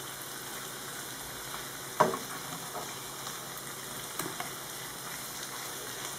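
Skate wing sizzling steadily in a frying pan, a soft continuous hiss with a sharp clatter near two seconds as the fish is turned and a smaller knock later, no voices.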